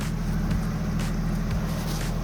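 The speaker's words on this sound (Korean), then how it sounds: "그리고 시동을 한번 걸어볼 건데" A Mercedes-Benz G450d diesel engine idles with a steady, fairly quiet low hum and a faint regular throb, close by and without any voices.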